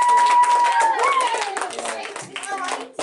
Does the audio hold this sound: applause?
yes